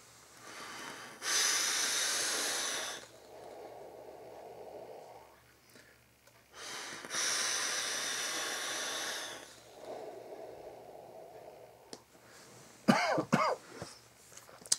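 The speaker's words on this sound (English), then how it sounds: "let's go ahead, take a vape" Two long drags of vapor pulled through a high-airflow RDA atomizer fitted with a Chuff cap, each a steady breathy hiss of inhale followed by a softer exhale, ending with a few coughs and throat-clearing sounds.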